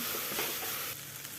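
Soaked, drained rice is stirred into hot masala in a pan for paneer pulao, a soft steady sizzle with light scraping throughout.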